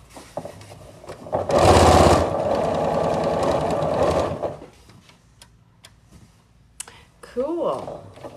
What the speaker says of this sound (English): I'm going to sew this way and then I'm going to flip it and sew it the other way.